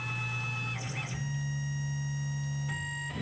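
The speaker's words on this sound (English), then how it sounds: "So this is my 1/16 inch single flute end mill." A 1/16 inch single flute end mill cutting a bearing pocket, giving a steady high whine with sustained tonal hum underneath and brief shifts in pitch as the cut changes; continuous and fairly close.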